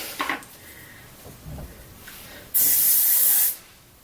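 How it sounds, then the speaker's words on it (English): A single continuous burst of spray mist onto curled hair, a loud close hiss lasting about a second amid quiet handling sounds. "I'm going to divide my hair in 2 and I'm going to mist it."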